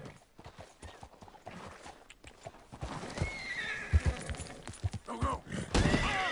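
Horse hooves clip-clop close by in the Red Dead Redemption video game, broken by a loud whinny and scattered thumps, while someone talks over them.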